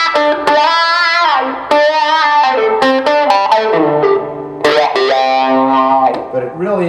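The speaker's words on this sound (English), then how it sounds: "you're distorting the wah-wah signal" An electric guitar played through a wah-wah pedal feeding distortion gives vocal-like sweeping tones over sustained, overdriven notes and short phrases, loud and close.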